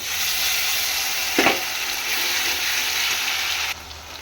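A paste of ginger, garlic, dried and green chillies, cashews and tomato sizzling in a hot pan, a loud, steady close hiss with a brief flare near the start and a slight drop near the end, no talking.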